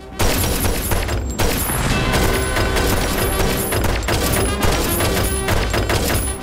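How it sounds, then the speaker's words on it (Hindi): Sustained, dense gunfire as a whole magazine is emptied into a bullseye in an action movie scene, loud and continuous with heavy booming bursts throughout. "He can empty a whole magazine into a bullseye."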